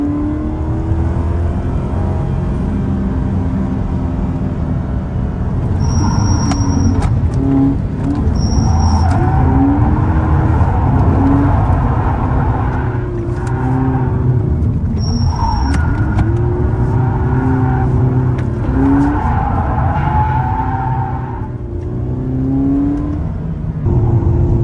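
A Toyota 86 driven hard and drifted on a race circuit: a loud, steady engine roar rises and falls through revs, with brief tyre squeals along the way and no talking.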